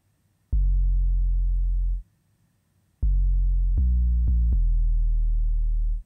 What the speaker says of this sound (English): Super clean 808.